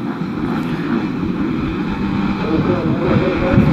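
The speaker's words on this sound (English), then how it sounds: "It turns to 5, the revs are up." Motocross bikes revving together at the starting gate of an Irish national championship round, a dense, steady engine roar filling the clip and building slightly toward the end, with a commentator talking over it.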